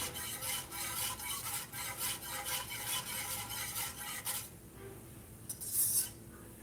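Spoon scraping and stirring sausage gravy around a skillet on a stovetop eye, a steady rhythmic rasping that runs close and continuous for several seconds, then eases off into quieter bubbling with a brief clink near the end.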